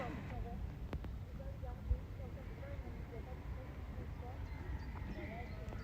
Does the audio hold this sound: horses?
yes